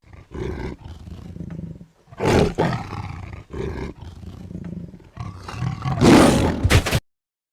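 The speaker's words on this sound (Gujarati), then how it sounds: "દીપડા આવે છે" A leopard's roar: a run of rough, rasping bursts in uneven pulses, loud and close, ending abruptly.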